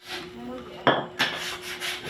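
Steady rasping rubbing across the clip, with two sharper scraping strokes in the middle, as sandpaper is worked over wood for a loft bed close by.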